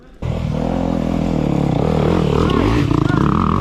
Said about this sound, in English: just give it a bit of gas to get the front wheel over